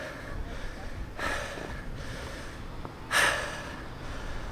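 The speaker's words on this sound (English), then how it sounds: "Listen to me breathing." Heavy, labored breaths from an out-of-shape adult after running an obstacle course, a few sharp gasping inhales and snorting exhales close to the microphone over faint outdoor background.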